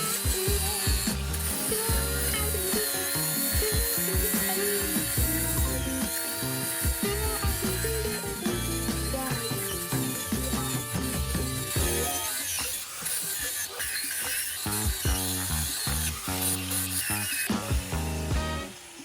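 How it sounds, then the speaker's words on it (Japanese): A power tool grinds woodworm holes out of a wooden bedroom beam, a loud, continuous, harsh whine with shifting pitch and rattling, running steadily without talk. "もうこの穴をね全部削って消していきたいと思います。"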